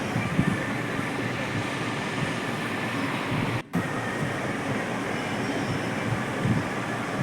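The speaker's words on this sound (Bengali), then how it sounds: "এই মুহূর্তে আমরা ভদ্রক স্টেশন ছেড়ে বেরিয়ে যাচ্ছি।" A Vande Bharat Express pulls out of Bhadrak station, heard from inside the coach as a continuous rumbling roll of wheels and carriage noise, with one momentary dropout midway.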